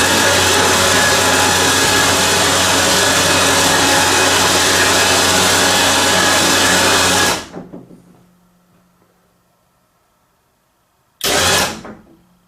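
An electric motor drives a cargo trailer bed lift upward with a loud, steady whine for about seven seconds, cuts off and fades, then gives a brief second burst.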